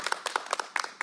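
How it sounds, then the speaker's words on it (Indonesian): A few people clap briefly in a radio studio for students during a live regional talk show broadcast, a short run of close, distinct claps lasting about a second with no speech over it. "Tepuk tangan dulu untuk mahasiswaku ini."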